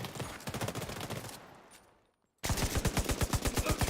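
Close, loud automatic fire from a 31-round long-range sniper rifle in The Division 2: a steady string of shots fades into a near-silent gap, then a sharp, evenly paced burst resumes.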